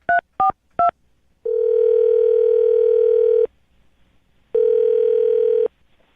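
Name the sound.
telephone dial tone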